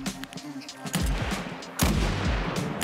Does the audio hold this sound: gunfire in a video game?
yes